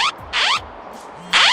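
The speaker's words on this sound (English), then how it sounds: "Now that sound is the Japanese emergency broadcast system," Japanese emergency broadcast alert tone: loud bursts of rising, sweeping electronic chime separated by short gaps, heard alone with no talking.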